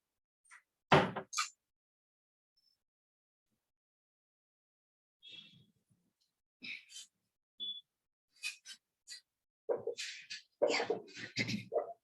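A door is closed, with a sharp knock and rattle near the start followed by several more scattered bumps and clatters, brief bursts separated by near silence.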